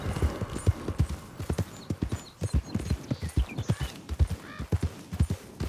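Horse hoofbeats from Red Dead Redemption II, a steady rapid clip-clop of a ridden horse at a brisk gait, close and prominent throughout with an occasional faint whinny.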